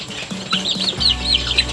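Stunted chickens cluck and chirp close by in quick, soft bursts, a few low clucks followed by higher peeping calls.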